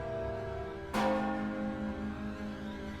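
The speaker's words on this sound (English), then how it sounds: "He's rung the doorbell." A ringing bell-like scream erupts from the tower gate in LOTRO, a sudden struck onset at about one second leaving a sustained metallic tone that hangs over a low ambient background.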